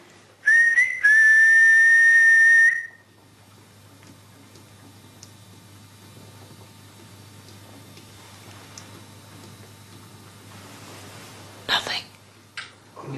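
A person whistles a single rising then steady note for about two seconds, clear and fairly loud, followed by quiet room hiss with faint taps and a brief rustle near the end.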